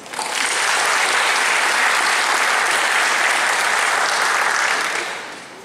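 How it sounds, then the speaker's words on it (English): Audience at a corrections academy commencement ceremony claps in a loud, dense, continuous burst that swells quickly, holds steady, then tapers off at the end. "Let's give a round of applause for both of them."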